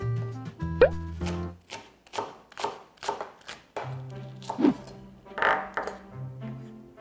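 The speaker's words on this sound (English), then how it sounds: "let's cut 1 green onion into small pieces" A knife chops a green onion into small pieces on a cutting board, a run of sharp, close taps in an uneven rhythm, with some soft plops and shuffles between strokes.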